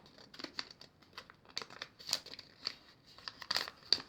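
Paper is folded for origami, with close, soft crinkles and crisp creasing snaps coming in irregular small bursts throughout, and no voices over it.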